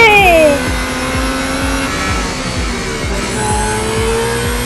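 Racing cars in the Real Racing 3 game, including a Red Bull car, whine and rev through gear changes in rapid repeating surges with high tire squeal at the start, loud and continuous.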